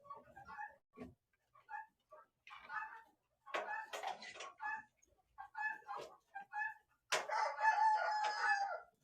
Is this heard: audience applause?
no